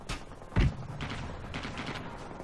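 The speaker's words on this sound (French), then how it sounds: "j'ai l'impression qu'il y a une mitrailleuse lourde quelque part." Heavy machine gun fire rattles in the game Rising Storm 2 Vietnam, a few muffled, distant bursts with one louder thump near the start, all over steady background noise.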